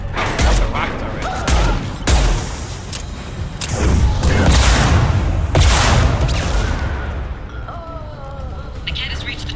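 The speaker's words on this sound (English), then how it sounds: "That's the rockets already." Rocket blasts in the sci-fi shooter game Mass Effect 2: a run of heavy, booming explosions with rumbling tails and scattered gunfire, loud and close, with voices speaking over part of the barrage.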